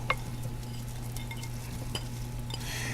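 Ful beans tipped into a pan of onions softening in olive oil over medium-high heat, giving a steady close sizzle with a few light clinks of a utensil.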